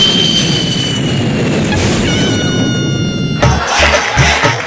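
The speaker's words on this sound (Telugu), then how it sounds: "పై నుంచి ఫ్లైట్ వెళ్తుందిగా" An airplane flying overhead is used as a sound effect in a televised comedy sketch, with a whining jet tone that rises and sweeps, then a heavier rumbling roar toward the end, loud and without talk.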